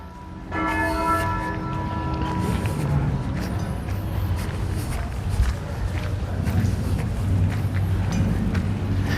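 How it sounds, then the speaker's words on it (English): Church bells ring out across Brasov, Romania, a sustained resonant peal starting just after the opening moment and continuing throughout, with footsteps and street bustle mixed underneath. "Very beautiful sound of the bells."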